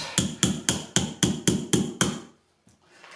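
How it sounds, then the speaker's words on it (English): Wooden dowels are struck into the side rails of an Ashford Kiwi 3 folding spinning wheel: eight sharp, evenly spaced knocks, close and clear, then a pause and one faint tap. "So now we're putting these dowels into these side rails."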